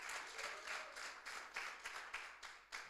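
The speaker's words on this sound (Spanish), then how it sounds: "¿Cuántos les dan un aplauso al Señor?" Congregation applauding during a Spanish-language church sermon, a fairly faint, steady wash of clapping with rhythmic surges, no voices over it.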